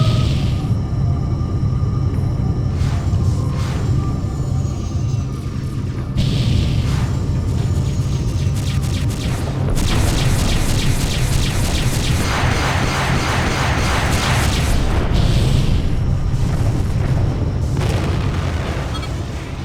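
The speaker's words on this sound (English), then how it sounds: "So many of these Tempest missiles." Tempest missile explosions in the 1999 space combat game Freespace 2, a loud, continuous barrage of booming blasts and crackling bursts layered over a deep rumbling space-battle backdrop.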